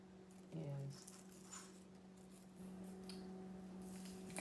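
Dried herb leaves crinkle and crackle as fingers strip them down the stem, a soft close rustle against a steady low background hum.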